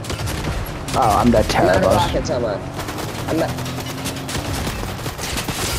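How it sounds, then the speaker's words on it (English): Video game gunfire with rapid bursts of shots crackling over a busy in-game background while a player speaks briefly. "You gotta get closer, I can't fucking shoot them at this distance."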